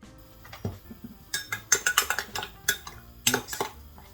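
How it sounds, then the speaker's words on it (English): Mayonnaise being mixed in a bowl for chunky homemade tartar sauce served with fish and chips: a spoon clinks and scrapes against the bowl in uneven bursts, close and fairly sharp, with no voices. "So next is mixing to the mayonnaise."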